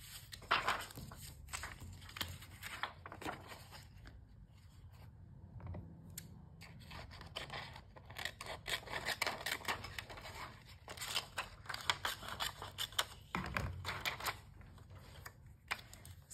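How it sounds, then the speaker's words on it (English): Scissors fussy-cut a piece of paper for a handmade present tag, with repeated small snips and rustles spread over the stretch, close but quiet. "So fussy cut a piece here and stick it at the back side."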